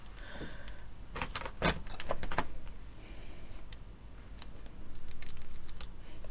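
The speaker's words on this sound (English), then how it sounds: "this bag is actually sort of heat sealed as well, so I'm going to cut it" Scissors snip through a heat-sealed plastic bag holding model kit parts, a quick cluster of sharp cuts and crinkles up close, followed by a few lighter clicks and rustles.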